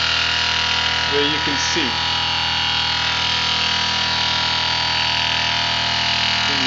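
A BLDC motor spinning at 2,400 RPM gives off a constant, close buzzing whine that stays level throughout, while a person speaks briefly over it.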